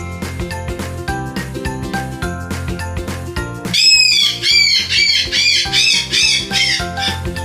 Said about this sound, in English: P for parrot. Parrot says